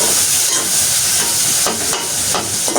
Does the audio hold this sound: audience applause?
no